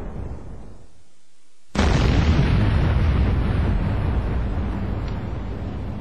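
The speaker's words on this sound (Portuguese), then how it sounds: "O impacto liberou energia comparável à explosão de uma bomba de hidrogênio" A meteorite impact explosion rendered as a documentary sound effect: a low rumble drops away, then a sudden massive boom erupts and sustains as a loud, roaring blast that slowly tapers.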